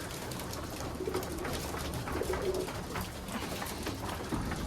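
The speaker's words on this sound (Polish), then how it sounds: "karmienie gołębi" Pigeons coo softly and repeatedly while being fed in a loft, amid a busy background of fluttering, scratching and pecking, the birds close by and continuous.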